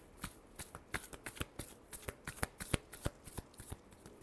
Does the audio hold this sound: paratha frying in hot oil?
no